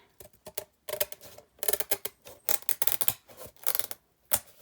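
Big scissors snipping through the paper and binding material at the edge of a handmade memory journal, a run of close, crisp cuts in quick irregular bursts with brief pauses between.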